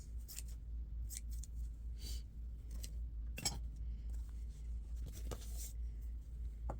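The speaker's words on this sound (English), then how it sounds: "So let me just cut a piece off of here, and we'll sew this on." Scissors snip through rust-dyed grungy lace in several sharp, separate cuts, close and crisp against a quiet background.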